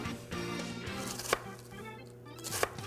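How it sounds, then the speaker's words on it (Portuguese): A knife slices a vegetable finely on a cutting board, with quiet repeated cuts and two sharper taps against the board, heard close up in a kitchen. "Nada mais, nada menos do que fatiar. Finamente."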